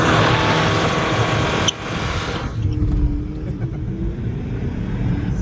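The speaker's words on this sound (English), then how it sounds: "I want to make car sounds because it doesn't make many car sounds. Right. Burnout." A car doing a burnout gives a loud, dense roar of engine and tire noise that cuts off abruptly partway through, leaving a quieter, steady rumble with a faint whine.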